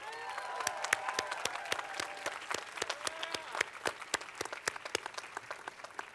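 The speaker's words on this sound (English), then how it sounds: "Graduates, let's give your parents and family members a round of applause." Applause from a commencement audience as graduates honor their parents and families, steady dense clapping with many sharp individual claps standing out, sustained for several seconds and gradually thinning.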